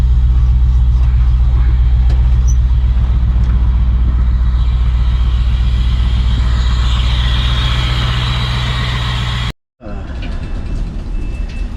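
A Ford F100 truck with a Crown Vic swap and newly installed electric steering rack drives with a loud, steady low engine rumble, cutting out abruptly near the end before resuming more quietly.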